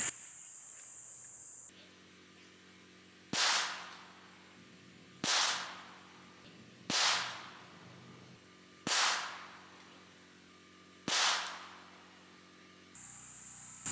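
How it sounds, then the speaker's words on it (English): Beretta 92 pistol firing Mills 147 ammunition at a range: five loud, sharp shots spaced about two seconds apart, each with a short decaying tail, over a steady high-pitched hiss. "this is Beretta 92 with Mills 147."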